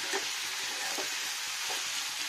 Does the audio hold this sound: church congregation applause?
no